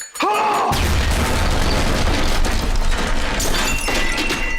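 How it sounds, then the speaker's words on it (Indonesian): A loud explosion from a Breaking Bad scene bursts after a brief sharp intro, then a sustained roaring rumble with crashing debris continues throughout. "setelah ledakan terjadi"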